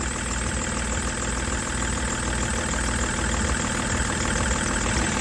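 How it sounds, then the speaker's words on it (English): A BMW E60 engine idles steadily at close range after a voltage regulator repair, its even mechanical drone carrying a constant whine from the charging alternator. "And we can hear now also the alternator"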